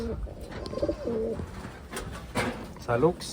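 A blue bar racing pigeon gives a few soft, low throaty coos up close while someone talks over it.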